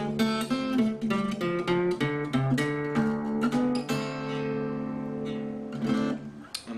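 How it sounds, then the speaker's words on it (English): Acoustic guitar plays the main riff of a Delta blues piece: a steady run of picked notes and ringing chords over a repeating bass, loud and close with no voice. "now we're going to discuss the main riff in the song, which sounds like this"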